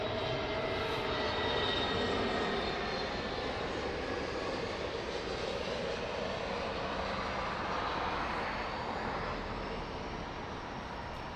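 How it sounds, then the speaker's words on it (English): An EasyJet airliner landing at Lisbon Airport on a sunny morning produces a steady distant engine roar and rumble that holds for several seconds, with no voices over it. "Nice landing, EasyJet."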